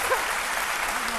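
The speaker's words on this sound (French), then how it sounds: "on les applaudit très fort" Studio audience on a French-language midday TV talk show applauding the guests, a brief, dense burst of steady clapping with a faint voice briefly audible beneath it.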